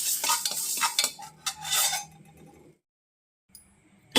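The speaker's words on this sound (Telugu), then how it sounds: "ఒక స్పూను మెంతులు వేయించుకుందాం ముందు మాడిపోకుండా దగ్గర ఉండి వేయించుకోండి" Fenugreek seeds roast in a pan for Iyengar-style pulihora, heard as busy close stirring scrapes and light sizzle that stop abruptly, leaving silence, then a brief metallic clink.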